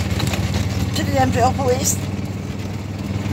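Utility vehicle (a Mule) engine droning steadily while driving, a low continuous rumble underneath someone talking.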